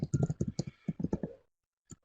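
Rapid, close clicking of computer keyboard keys in an irregular burst, then a pause and a couple of final taps at a quiet level.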